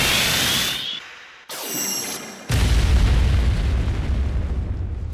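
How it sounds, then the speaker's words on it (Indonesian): A huge fiery blast erupts from a dragon-like creature, heard as a deep booming explosion after a brief whooshing buildup and a sharp cut, followed by a loud sustained rumble. "menciptakan sebuah ledakan besar"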